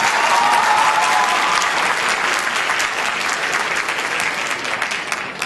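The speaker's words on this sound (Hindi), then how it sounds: "जोरदार तालियां।" Loud, sustained applause from an audience for the singer Sujana at a stage program, dense clapping holding steady for several seconds and easing only slightly toward the end.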